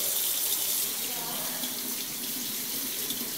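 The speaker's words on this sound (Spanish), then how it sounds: "lavamos con agua y jabón durante 40-60 segundos." Hands are washed with soap and water under a running tap, a steady close rush of water splashing into a sink, with no talk.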